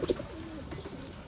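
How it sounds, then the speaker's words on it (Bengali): A female racing pigeon of a Chipko line gives a soft, low coo close by, a single short murmuring call with a brief higher note at the start. "চিপকো লাইনের কবুতর, এটা একটা মাদি কবুতর।"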